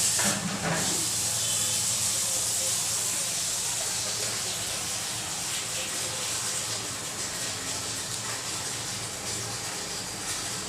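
A rolled puran poli cooks in a little oil on a hot tava over a lowered gas flame, giving a steady, soft, continuous hiss that runs unbroken for the whole stretch.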